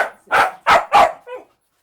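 A jealous dog gives three loud, close barks in quick succession, followed by a shorter, softer yelp, with no talking.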